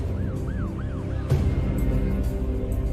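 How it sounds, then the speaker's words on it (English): Police sirens wail with rising and falling swoops over a steady low traffic rumble, responding to an abandoned parking lot; a louder burst of noise then cuts in and the siren fades under the din. "sirens ring out as police rush to an abandoned parking lot on the east side of town"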